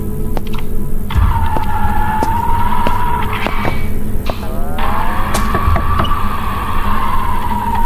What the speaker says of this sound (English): Investigate the grinding noise.